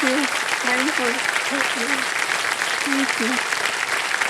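Loud, sustained applause from the studio audience of the quiz show Kaun Banega Crorepati fills the whole stretch, with a host's voice talking over it.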